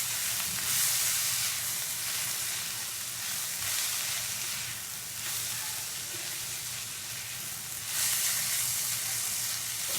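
Vegetables with coriander, turmeric, chili and cumin powders frying in a pan for soya cutlets: a steady close sizzle and hiss that swells and eases with stirring, no voices.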